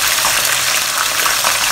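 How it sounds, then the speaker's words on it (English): Chicken pieces deep frying in hot oil for a crunchy Chinese fried chicken, giving a steady, loud, dense crackling sizzle that stays even throughout with no talk. "I'm deep frying this now because I want the chicken to have a little bit of crunch on the outside."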